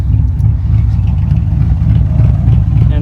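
A 2003 Dodge Ram 1500 engine idles just after startup, a steady, loud low rumble with an even pulsing rhythm, recorded close by and alone.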